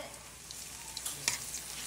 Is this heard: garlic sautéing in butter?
yes